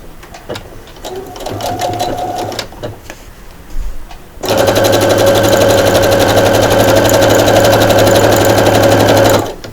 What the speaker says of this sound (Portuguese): Agora eu vou lá para a máquina, vou costurar essa parte onde eu alfinetei.